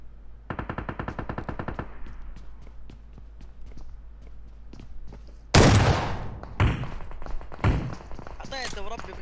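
Rapid bursts of gunfire from a video game, a steady stream early on, then several loud, heavy shotgun blasts later, with voices talking over the action.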